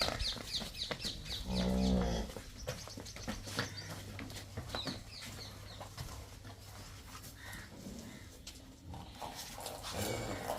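On a dairy farm, milk cows, one partly Sahiwal, give a low moo early on amid distant bird calls and general farmyard noise.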